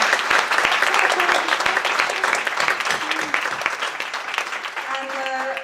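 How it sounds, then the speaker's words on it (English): Audience at a conference event gives a big round of applause, dense clapping that starts full and slowly thins, with voices and cheering emerging toward the end. "I hope you'll join me in giving her a huge round of applause, to Zoe"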